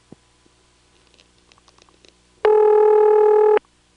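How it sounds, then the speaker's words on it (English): A St. Thomas type ringing signal on a long cable pair from a Bell #355 step-by-step telephone exchange in Batesburg, South Carolina, 1977, sounds as one loud, buzzy burst of about a second after faint clicks on a quiet line. "This is a St. Thomas type ring."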